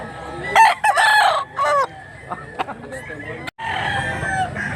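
A rooster crows loudly nearby in Mantalungon, Cebu, a long drawn-out call followed by shorter clucks and a second crow, with faint background noise.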